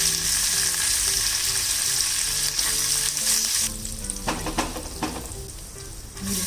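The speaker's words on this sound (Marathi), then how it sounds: "कढीपत्ता घालायचा." Curry leaves crackle into hot oil with mustard seeds and urad dal: a loud continuous sizzle at first, then a sharper burst of spitting pops as the leaves hit, settling into a rougher fry.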